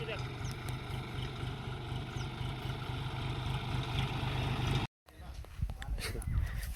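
A John Deere tractor engine runs with a steady low rumble under wind buffeting on the microphone, cuts off abruptly after about five seconds, and then quieter background sound follows, with voices present.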